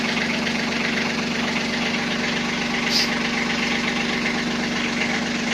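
A Kubota Aste A15 tractor engine idles cold after standing a long time, a steady close low rumble with even knocking pulses that stays constant throughout.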